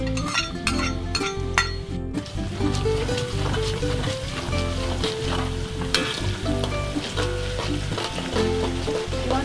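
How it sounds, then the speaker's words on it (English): Preserved radish sizzles in a generous amount of oil with a sprinkle of corn flour in a pan, a loud, continuous frying crackle with clinks of a utensil against the pan, heard alone without talk. "And I saute this preserved radish."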